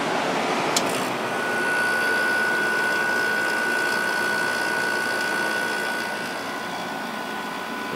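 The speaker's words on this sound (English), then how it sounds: "We'll start the compressor now." A Whirlpool 5,000 BTU window air conditioner runs with its compressor on: a steady, even mechanical hum and airy rush with a faint tonal whine, continuous and fairly close.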